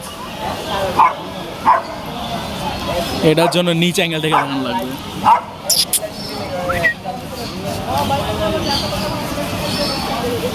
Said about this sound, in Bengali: কুকুর আছে বুলডগ